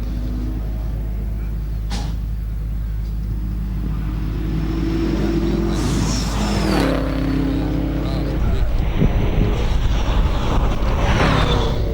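A Subaru WRX rally car engine at a hillclimb hairpin, rumbling and revving through shifting tones, rising and falling as it nears, with a roughening boost toward the end over steady low rumble and faint voices.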